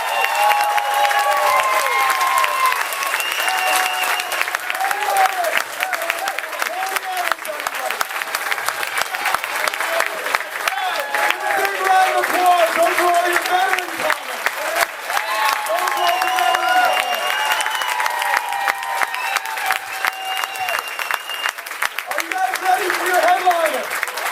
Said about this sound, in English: Give a big round of applause to Tony Landolfi